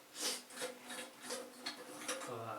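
A plastic collar on a toilet cistern being unscrewed by hand, giving soft repeated rasping and rubbing turns, quiet and close, with no talk.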